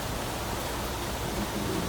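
Rain falls in the survival video game Planet Crafter, a continuous broadband hiss of downpour that holds steady throughout with no voices over it.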